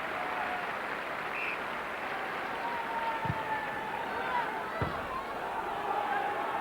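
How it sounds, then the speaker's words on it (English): Rugby league crowd of Leeds and Castleford fans at Headingley during a 1998 Challenge Cup fourth-round match, giving steady, warm applause that blends into a broad stadium wash, with a couple of brief thumps. "getting warm applause from the Castleford and the Leeds fans"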